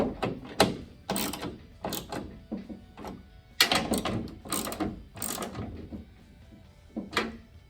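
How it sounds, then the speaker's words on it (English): Fasteners being tightened on an S10 truck build, a series of close, sharp ratcheting clicks in uneven bursts separated by brief pauses, loud and mechanical. "Just gonna give these a little tighten here."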